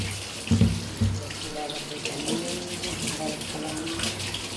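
Tap water runs steadily into a sink while fish is washed, a continuous close splashing stream with brief louder splashes, under faint talk.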